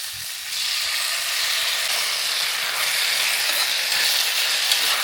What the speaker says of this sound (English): I'm going to let it saute for another 3 minutes.